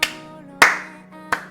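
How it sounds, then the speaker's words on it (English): Three sharp hand claps ring out about half a second apart over a soft tonal background. "we need a round of applause here for the ending of that game"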